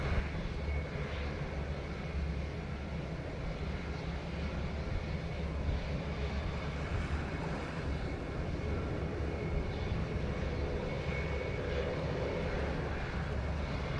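Fixed-wing airliner landing on runway 07 at Montego Bay, Jamaica, its engines giving a steady, sustained low roar with a faint whine that holds evenly without a clear peak.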